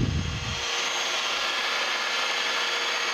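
A milling machine cuts a steam stoker engine valve part at full depth, giving a steady, dense, high hissing whine with a brief low rumble as the cutter bites, continuous and close.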